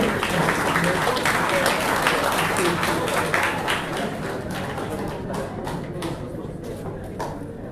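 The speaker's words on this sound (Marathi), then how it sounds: "सगळ्यांनी टाळ्या मारच्यो." A crowd at a World Elders' Day celebration in Goa applauds with dense, continuous clapping that gradually thins out toward the end, with some voices mixed in.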